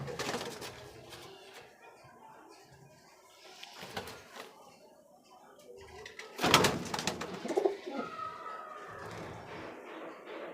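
Pigeons coo in low, repeated murmurs, with wing flutters and a louder burst of flapping and scuffling partway through.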